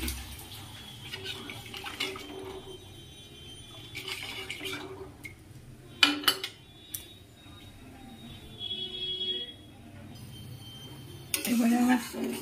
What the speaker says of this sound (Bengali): আরও একটু জল দিয়ে দেবো।